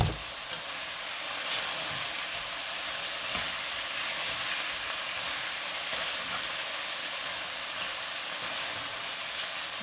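Pork fries in a pan while being stirred with soy sauce, a continuous loud sizzle with occasional scraping and stirring knocks.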